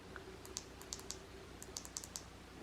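A Thrunite TT10 tactical flashlight's tail switch clicked repeatedly, in quick doubles and triples: sharp, faint, close-up ticks spaced across a quiet room.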